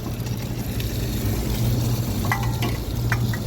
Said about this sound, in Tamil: நல்லா வதங்கட்டும் கொஞ்சம் எண்ணெயில்